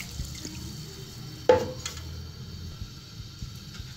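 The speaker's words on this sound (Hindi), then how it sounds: "उसके लिए सबसे पहले मैं पानी ऐड करूँगी।" Water going into a pot on a lit stove to boil rice for mutanjan, a brief splashing burst at mid-clip over a low kitchen hum, with faint drips trailing after.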